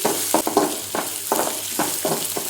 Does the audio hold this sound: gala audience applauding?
no